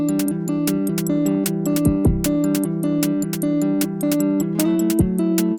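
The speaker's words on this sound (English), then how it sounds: "All I've done is programmed a little drum machine beat, popped some guitar arpeggios on top of that" A steady programmed drum machine beat with crisp hits, topped by repeating guitar arpeggios and a sustained bass line, backing for a Roland TB-303, dense and continuous throughout.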